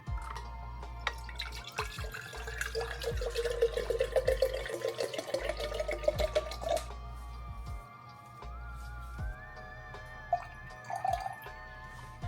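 Bottled water poured into a container while preparing a lemon juice and apple cider vinegar drink, a steady trickling pour running for several seconds with light dripping and glassy resonance, close by with no talk.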